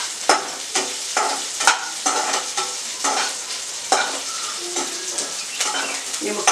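Chicken chops fry in a pan with a close sizzle, broken by repeated stirring scrapes in an uneven rhythm.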